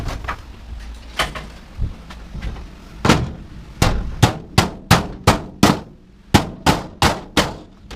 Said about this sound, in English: Where's the old trusty hammer?